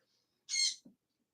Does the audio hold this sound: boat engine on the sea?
no